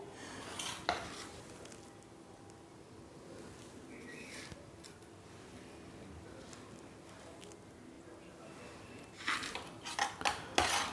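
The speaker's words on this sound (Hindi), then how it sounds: "तो एक प्लेट ले लेंगे पहले।" A serving plate is handled for potato chaat, with a faint clink of dishes near the start and a cluster of louder clattering plate and cutlery knocks at the end over quiet room noise.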